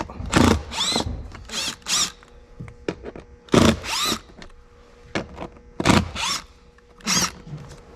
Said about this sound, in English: So we're gonna use a drill.